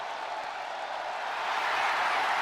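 A wrestling arena crowd cheers in a continuous broad roar, a dense wash of voices and scattered clapping that swells slightly louder toward the end, with no distinct speech.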